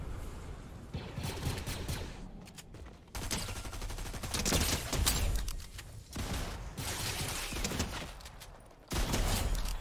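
Gunfire from stormtroopers in the Fortnite video game, bursts of rapid shots alternating with short pauses, moderately quiet and distant in the mix, with no talking.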